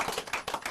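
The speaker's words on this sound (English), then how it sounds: "I'm gonna clap for this man" One man claps by himself, about six quick sharp claps close by in less than a second.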